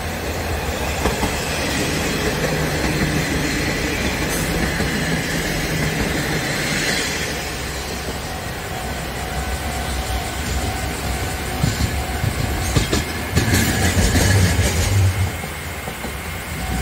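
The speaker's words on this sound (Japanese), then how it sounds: "キハ47南鹿児島駅へ入ります" A KiHa 47 diesel train rumbles close by as it rolls into Minami-Kagoshima Station, Japan, wheels clacking over rail joints, with brief brake squeals and a rising engine drone near the end.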